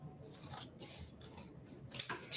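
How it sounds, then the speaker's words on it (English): Scissors snipping the corners off sewn fabric, four or five short rasping cuts in a steady rhythm, close and clear with no talking. "we're going to cut these corners off"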